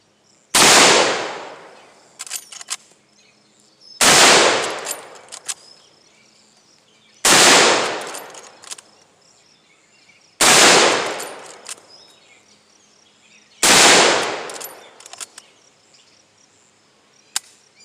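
Five loud rifle shots from a Marlin .444S lever-action being sighted in, spaced roughly three seconds apart, each a sharp crack with a long decaying tail, with faint mechanical clicks of cycling the action between shots.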